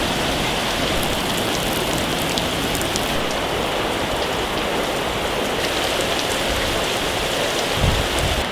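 Heavy rain pounds steadily outside a workshop, a dense, unbroken roar of falling water that stays loud and even throughout with no voices.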